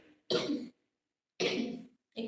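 Two distinct coughs sound close and fairly loud, separated by about a second of silence, with the start of a third at the end; no talking.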